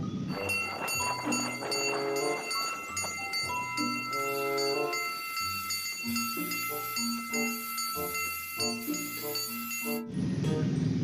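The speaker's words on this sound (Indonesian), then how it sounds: "yang ini lokomotif kereta api" Toy train locomotive playing a tinny electronic melody with bell-like chimes and a steady rhythm, loud and close, with no talking over it.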